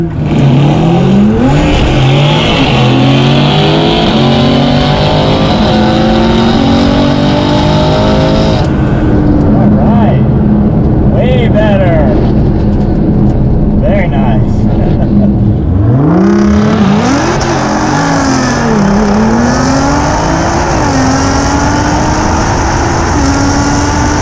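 R35 Nissan GT-R doing a launch-control start at 3,000 RPM: loud engine revving held steady, then a hard launch with rising, climbing tones through gear shifts, a brief lull, and another surge of strong acceleration.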